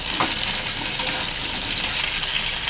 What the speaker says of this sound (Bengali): এটা আমি তেলের মধ্যে দিয়ে দেবো। এবার আমি ভালো করে এটা নাড়াবো।